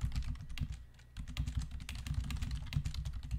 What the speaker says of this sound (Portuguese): você pode dar só um clique aqui e digitar